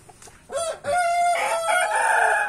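A young rooster crows nearby, a loud drawn-out call following a few brief clucks, with no talking over it.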